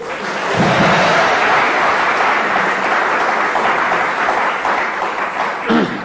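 A studio audience at a 1983 Silver Jubilee show bursts into loud, dense applause that holds steady for several seconds before thinning out.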